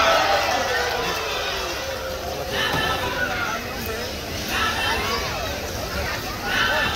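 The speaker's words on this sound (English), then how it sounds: "Now, 2 round of applause for Sassy and Rocky with Trainer Rochelle and Trainer" A large audience at an Ocean Park bird show applauds a pair of performing birds and their trainers. The clapping and crowd hubbub form a continuous, fairly loud wash that swells and dips slightly.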